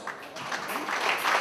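Audience applause at the finale of a Sallandse cabaret evening in Raalte, a steady wash of clapping that builds slightly and keeps going through the whole short stretch, with some crowd voices mixed in.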